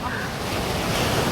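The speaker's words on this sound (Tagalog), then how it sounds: "Ayun nga yung dagat eh." Sea waves wash onto a beach in Boracay, heard as a broad, steady surf wash with wind buffeting the microphone and faint voices underneath.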